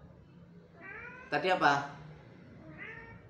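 A cat meows near the microphone, a faint lead-in cry followed by one loud, drawn-out meow and a softer trailing call, while a person speaks briefly alongside it.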